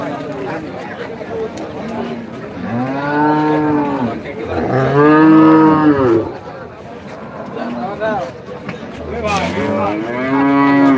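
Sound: cattle lowing at a large livestock market

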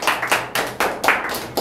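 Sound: audience clapping hands

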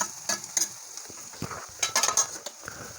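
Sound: onion and ginger garlic paste frying in pan

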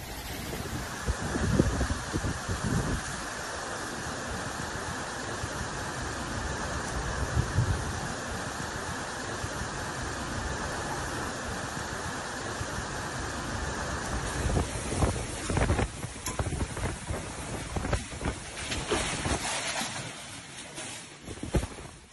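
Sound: hurricane-force storm winds on Spanish island

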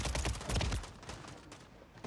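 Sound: gunfire in the video game Warzone 3

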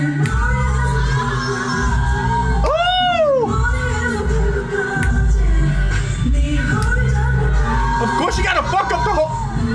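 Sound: concert crowd cheering in a played performance video

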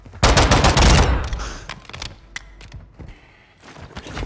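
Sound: gunfire in video game Call of Duty DMZ

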